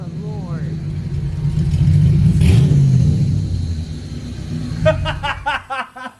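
A Chevrolet S10 Blazer truck with a Holley Terminator X two-step launch control rumbles loudly and builds in a heavy held rev, then crackles in rapid popping bursts at the end, with voices partly over it.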